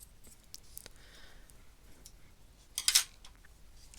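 Scissors snipping through felt fabric for a slow-stitch portrait, soft faint clicks and rustles building to one sharp, close cutting burst near the end, in a quiet room.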